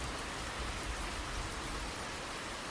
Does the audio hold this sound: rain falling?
yes